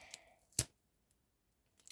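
A small paper surprise packet with no perforation is torn open by hand, giving one sharp, close ripping burst in an otherwise quiet room, with faint rustles before and a few soft clicks at the end.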